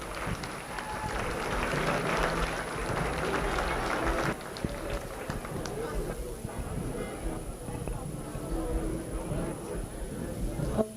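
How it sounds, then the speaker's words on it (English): An audience at a county fair livestock showmanship contest claps for the young exhibitors, a dense wash of applause that fills the first few seconds before tapering into scattered crowd noise and background voices. "Give the kids a round of applause."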